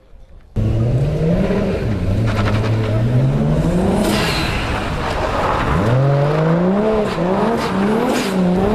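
A car engine runs loud and close, with rising and falling pitch as it revs and accelerates, plus brief squeals that may be tires, continuous over about eight seconds.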